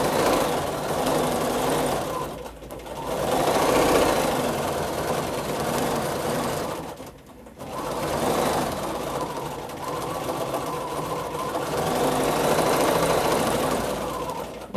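A domestic sewing machine runs steadily while free-motion quilting echo designs, a continuous motor whir with two short pauses, close and alone without talk.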